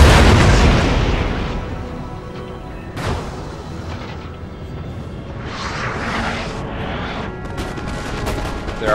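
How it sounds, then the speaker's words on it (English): Cannon fire in the Napoleon Total War battle game, with a heavy booming blast at the start followed by scattered distant artillery thuds and crackling musketry over a continuous battlefield rumble. "See if we can get a little cannon shot from this angle."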